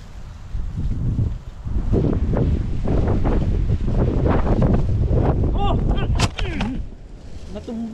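Strong wind buffeting the microphone with loud, continuous low rumbling and gusts, with a voice faintly heard near the end.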